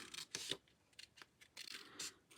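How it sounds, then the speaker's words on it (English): Scissors snip through paper, trimming dried painted paper edges in several short close cuts with brief pauses between, no voices. "we're going to take our scissors and trim this off"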